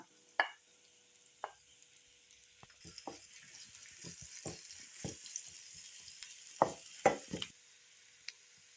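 Green chili, curry leaves, ginger and garlic sauté in oil in a pan. A quiet, steady sizzle runs underneath, with scattered close spoon taps and stirring scrapes and a few sharper knocks.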